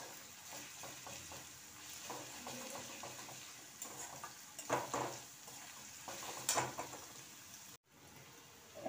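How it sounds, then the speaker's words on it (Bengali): Ginger-garlic paste goes into browned onions frying in a pan, giving a soft, steady sizzle with several sharper bursts and clatters of a utensil against the pan, then a brief cut to silence near the end. "এবার দেবো আমি 1/2 চামচ আদা রসুন বাটা।"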